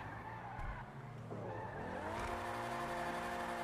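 A car in a video game drives off, its engine climbing steadily in pitch as it accelerates, with tire squeals and skidding over a continuous engine drone, close and fairly loud.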